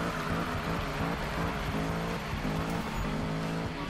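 A car in the Need for Speed video game drifts at around 60 mph, with a steady engine drone and shifting revving tones that hold continuous and fairly loud throughout.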